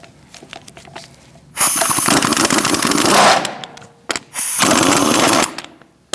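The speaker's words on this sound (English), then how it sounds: "If you use your gun for the hubcap, just be careful." An impact gun with a 19mm socket rattles off the hubcap and lug nuts on a Chevrolet Cruze front wheel, two loud hammering bursts of about two seconds and one second, close up, with faint shop clatter before.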